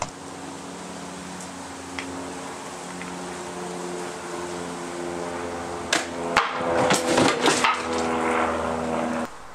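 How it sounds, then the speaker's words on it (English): A mini rifle crossbow, 3D printed for LARP and combat sport, looses a Gorg bolt: a sharp wooden snap and thwack, then a cluster of rattling impacts against a low steady fan-like hum, close and fairly loud. "Mini rifle crossbow with Gorg bolt."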